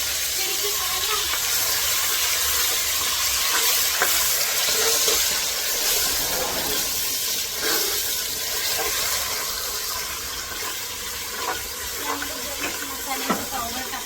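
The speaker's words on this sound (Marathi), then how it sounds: "चांगल्यापैकी याला आपण मिळून घेऊया मसाल्याला, चटणीला." Tripe frying in a pan hisses and sizzles steadily while a spoon stirs spices and chutney through it, with scraping strokes close by and no talk.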